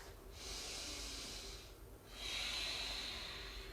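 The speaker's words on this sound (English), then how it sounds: "Take another breath." Two deep breaths during a yoga workout, each a long breathy rush of air with a short pause between, close and fairly quiet with no talk over it.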